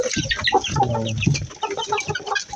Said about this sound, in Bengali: টাইগার মুরগি সব